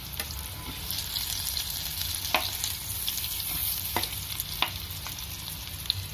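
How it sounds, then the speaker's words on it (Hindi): Chicken garlic fingers shallow frying over low heat, a steady soft sizzle with a few faint clicks of turning pieces, close and continuous with no talk. "आंच एकदम धीमी है, एकदम शैलो फ्राई करना है।"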